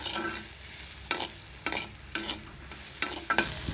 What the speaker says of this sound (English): Add little bit of salt to cook the onion quickly.